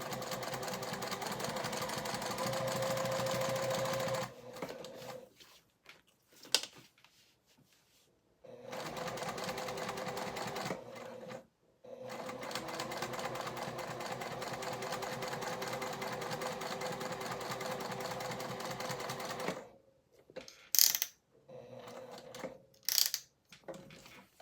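A sewing machine stitches in long, steady mechanical runs of fast, even whirring, broken by several pauses and short starts and stops, heard close and alone.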